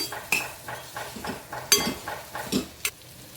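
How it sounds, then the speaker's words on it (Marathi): Pumpkin vegetable with coriander being mixed in a pan: repeated scraping strokes of a spatula against the pan in a loose rhythm, a few sharper metallic taps, over a faint background sizzle. "आणि कोथिंबीर घालून थोडंसं मिक्स करून घेऊया"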